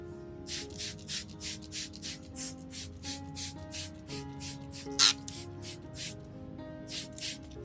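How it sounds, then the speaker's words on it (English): A spray bottle misting water onto anthurium leaves in a steady rhythm of short hissing puffs, close up, over a low constant hum, with one sharper click midway. "When spraying, remember to mist both the upper and lower surfaces of each leaf"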